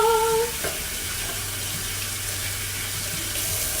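A kitchen tap runs, splashing steadily into a sink as something is rinsed before cooking, a close, continuous rushing hiss that follows a brief squeaky handle turn at the start.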